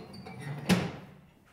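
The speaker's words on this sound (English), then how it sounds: "raise the door." Door of a cremation machine being raised gives a single sharp clunk followed by a short scraping rumble that fades out, close by in a quiet room.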